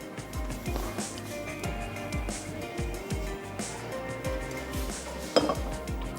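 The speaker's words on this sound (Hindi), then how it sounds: "तो हम पहले सैलेड के तमाम अज्जा को मिक्स कर लेते हैं।" Red bean salad ingredients, including cucumber, are tossed in a bowl with a spoon, giving repeated close clinks and scrapes in an irregular rhythm, with one sharper knock near the end.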